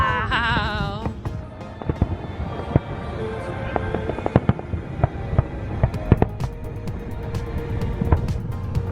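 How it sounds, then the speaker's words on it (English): Fourth of July fireworks burst over a home neighborhood, a rapid sequence of sharp cracks and booms of varying distance, some crackling, with a whistling rise at the start and faint background noise between blasts. "Those are some good fireworks."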